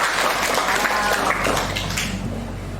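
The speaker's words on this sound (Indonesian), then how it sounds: "Tepuk tangan dulu." Classroom applause, likely from children after a recitation of the national principles during a school counselling session. A short, fairly loud burst of mixed clapping fades toward the end.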